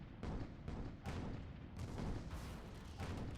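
Artillery fire thunders during a video game battle, with about six heavy booms at uneven intervals blending into a dense, continuous rumble.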